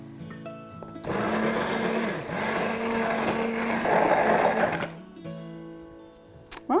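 An electric blender whizzes pancake batter made with milk and a pinch of salt, running steadily for about four seconds with a slight change in pitch before it cuts off, loud and close, with no talk.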